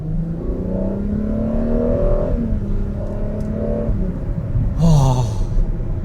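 Ferrari 12Cilindri with its V12 engine accelerating from low revs around 1000 to 1500 RPM, a smooth, rising engine drone heard from inside the car, swelling near the end with a brief sharper rev.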